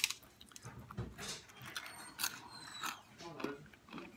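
Someone chews freshly roasted, cooled holiday spiced nuts, irregular close crunches and crackles spread across a few seconds with faint mouth noises.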